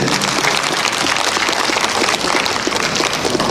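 A large audience at a meditation gathering in Tripura applauds loudly and steadily, a dense continuous wash of clapping filling the whole stretch with no voices.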